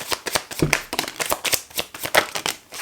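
Tarot cards spilling out of a deck and being gathered and shuffled by hand, a quick run of close, crisp papery flicks and slaps in uneven bursts.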